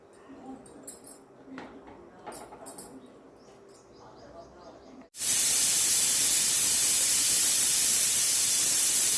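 A pressure cooker with goat head curry abruptly lets out a loud, continuous hiss of escaping steam after quieter kitchen sounds, the jet holding steady to the end.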